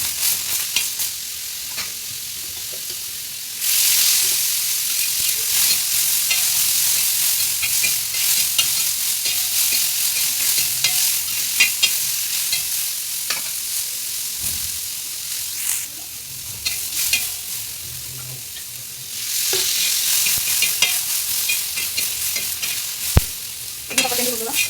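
Tomatoes sizzle in a hot pan, with garlic already in, for a home-style mutton dinner. Steady frying hiss runs throughout, and a spoon stirs and scrapes in bursts.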